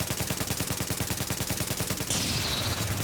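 Sustained automatic gunfire in a video game, a fast, even rattle of shots for about two seconds that cuts off into a louder, hissing blast or explosion wash.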